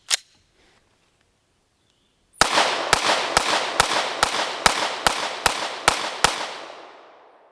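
A Staccato C pistol with a 4-inch recoil spring kit fires ten evenly spaced, sharp shots on an outdoor range, loud and close, with a brief tail of echo after the last round.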